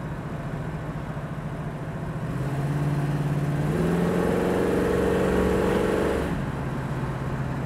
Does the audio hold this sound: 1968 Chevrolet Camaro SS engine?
yes